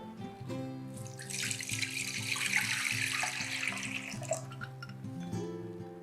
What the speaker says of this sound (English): I must not forget to put some water on the platter.